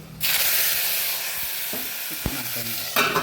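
Garlic tempering hits hot oil for a colocasia stem curry, bursting into a loud, steady hiss of sizzling that fills the clip, with a few soft clinks and stirring scrapes near the end.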